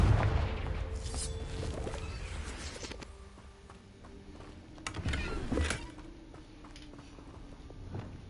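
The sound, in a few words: Confringo fire-blast spell from the video game Hogwarts Legacy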